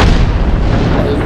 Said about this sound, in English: I destroyed the whole gate.